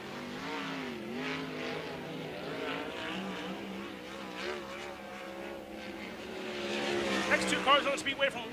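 Sprint car engines roar during time trials at Wayne County Speedway in Ohio, an All Star Circuit of Champions event. A continuous, wavering howl rises and falls as the cars circle the track, building louder near the end.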